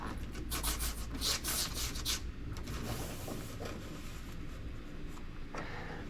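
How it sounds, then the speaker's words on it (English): 320-grit sandpaper scuffs painted bodywork on a Jeep TJ with continuous, close, scratchy rubbing strokes. The strokes are busier at the start, then settle into softer steady sanding. "I'm just gonna use some 320 and just kind of scuff this up a little bit, give the paint something to adhere to"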